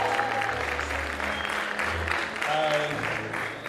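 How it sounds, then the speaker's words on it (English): Applause from the audience at a university swearing-in and oath-taking ceremony runs as a steady wash of clapping throughout, with voices and some tonal sounds mixed in beneath it. "To clap for yourself."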